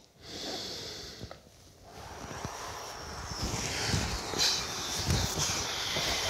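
During a Systema martial arts drill, forceful breaths are blown out with each strike, producing hissy, windy exhalations close to the microphone with a few sharp puffs and faint thuds.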